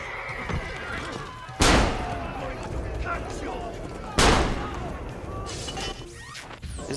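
Two loud gunshots from a firearm in the video game Assassin's Creed Brotherhood, a few seconds apart, each a sharp crack with a decaying tail over a busy, faint game background with occasional horse sounds.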